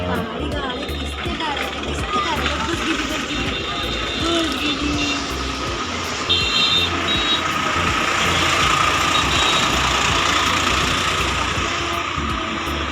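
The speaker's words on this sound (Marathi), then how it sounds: "किती गाड्या आहेत की नाही" Engines rumble steadily as vehicles pass, while a truck's repeated reversing beeps rise above the traffic and voices talk in the mix.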